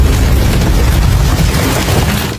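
A bomb concealed inside a bag detonates with a loud, sustained boom, a dense roaring blast that fills the whole moment and then cuts off abruptly.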